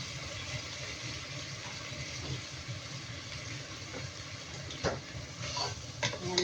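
Macaroni soup with cream is stirred in a pot, making a soft, low bubbling simmer with faint scraping and a few light clinks of the utensil against the side.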